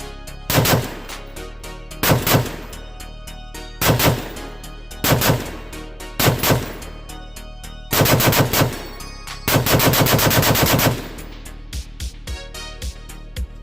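A Fightlite MCR machine gun fires at a range in repeated short bursts, loud and close, then one longer sustained burst and a few trailing single shots.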